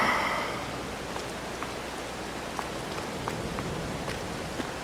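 Steady rain falls in Farming Simulator 22 on a Missouri farm, a soft even hiss with scattered faint drops tapping through it, with no voices.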